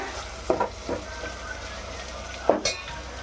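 Finely chopped tomato fries in a pan for a prawn and green pea curry, with a steady sizzle broken by a few sharp spatula scrapes and stirs against the pan, close up.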